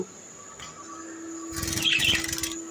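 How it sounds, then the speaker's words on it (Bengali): Tame pet birds, both rainbow-coloured, give a short burst of close chirping and fluttering in the second half, over a steady background hum. "দুইটা টেম করা পাখি"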